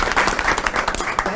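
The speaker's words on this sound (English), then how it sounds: "let's give a big applause for our speakers" An audience at a virtual reality education salon gives its speakers a short burst of lively, close clapping.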